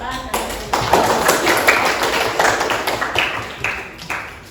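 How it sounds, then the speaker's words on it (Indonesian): Classroom applause for a student group, a loud burst of clapping from several hands close by, holding steady for a few seconds before tapering off. "Berarti berikan aplaus dulu kepada kelompok 2."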